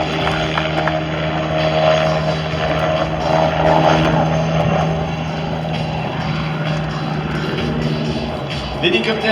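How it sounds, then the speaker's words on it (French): A helicopter sets down and repositions to its parking spot at an aerobatics world championship air show in Châteauroux, its rotor and turbine giving a steady, loud drone with a constant hum throughout. "L'hélicoptère revient se poser et va non pas rouler, mais se déplacer, venir se repositionner à son point de stationnement."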